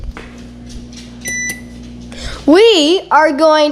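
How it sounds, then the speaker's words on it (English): A kitchen timer being set while baking raisin oatmeal cookies gives a couple of short, high electronic beeps. A voice then speaks loudly over a low background hum. "We are going to do a 5-minute timer for the cooling rack."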